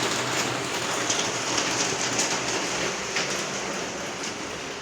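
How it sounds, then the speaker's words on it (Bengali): Steady rain falls outside as a dense, even hiss of drops on surfaces, close and continuous throughout, with no voices. "বাইরের যে বৃষ্টি পড়ছে ভাই, আমি কথা বলতে পারছি না।"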